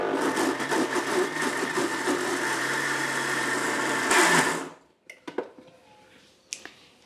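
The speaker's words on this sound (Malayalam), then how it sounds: "മിക്സിയിലിട്ടിട്ട് ഒന്ന് അടിച്ചെടുക്കുക." A kitchen mixer grinder runs loud and steady for about four and a half seconds, grinding soft batter with extra water, then cuts off, leaving a few faint clatters.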